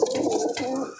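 A Chuithal pigeon, a captured male bird, coos close by in a steady low rolling call that runs unbroken through the whole moment and sits clearly above faint background noise.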